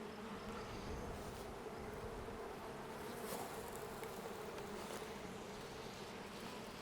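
Honey bees buzz at an open beehive on a farm, a dense, continuous, fairly faint hum of many insects close by, with no voices.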